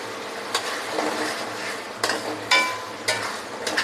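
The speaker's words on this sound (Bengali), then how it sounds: "মশলাগুলো ভালোভাবে তেলে কষিয়ে নিব" Spiced oil sizzles steadily in a pan, frying beef masala, with occasional scrapes and clinks of a spoon stirring against the pot; close and continuous, no talk.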